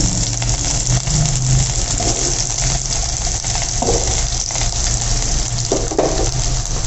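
Large chopped tomatoes, four of them, dropped into hot oil in a pan for paneer butter masala, giving a steady loud hiss and sizzle that runs continuously throughout with no voices.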